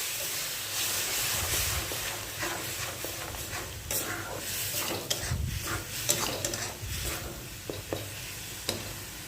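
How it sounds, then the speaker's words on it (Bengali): Tomato paste being stirred into sizzling masala for chicken korma, a continuous hissing fry broken by repeated scraping strokes and occasional spoon knocks against the pan, with no speech. "দিয়ে দেবো টমেটো বাটাটা। এটাকেও এবারে খুব ভালো করে নেড়ে নেব"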